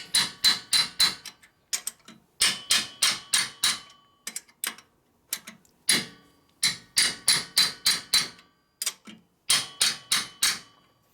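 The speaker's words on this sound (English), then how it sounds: "So we're going to use the old hammer method." A hammer strikes metal to tighten nuts on a 1958 Harley-Davidson Panhead 74ci motorcycle engine, in quick bursts of four or five sharp, ringing blows, separated by short pauses and single hits, loud and close.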